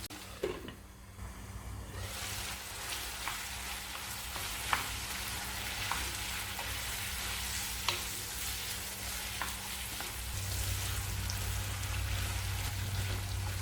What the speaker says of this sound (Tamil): பச்சை கறி நிறம் மாறி வர வரைக்கும் 2 நிமிஷம் வதக்கி எடுத்துக்கலாம்